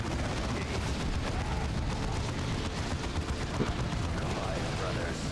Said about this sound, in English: That's grenades.